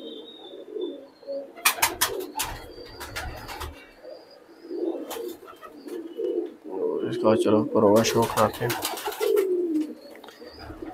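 Large-feathered, big-bodied hobby pigeons at a loft in R.S. Pura, Jammu, coo in low repeated rolling calls that swell into a fuller chorus midway, while someone talks over them.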